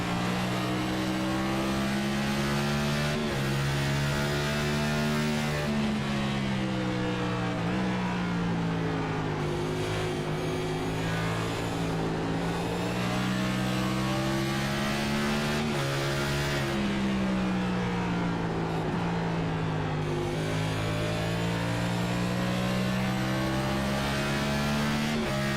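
A NASCAR race car engine in a racing video game at Richmond Raceway drones loudly and continuously, its pitch climbing and dropping repeatedly as it shifts through the gears.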